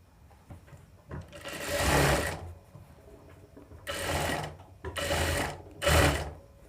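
Domestic sewing machine stitching a boat neck blouse in four loud close bursts, short pauses of quiet between each run, with no voices.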